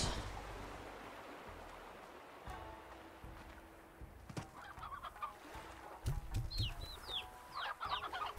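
Roosters in the video game Slime Rancher cluck in short, bursty calls that grow busier near the end, over quiet game ambience.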